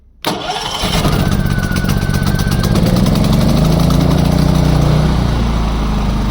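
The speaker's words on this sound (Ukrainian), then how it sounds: "З першого разу, як і всі генератори чемпіон. І настільки ж він тихесенький." A Champion C3500iES 3.5 kW dual-fuel inverter generator with electric start cranks and fires on the first try, then settles into a loud, even running drone close by.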